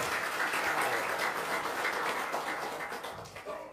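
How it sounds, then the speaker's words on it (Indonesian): An audience claps together in sustained applause, a dense even wash of hand claps from a crowd in a hall that fades slightly toward the end. "Tepuk tangan dong."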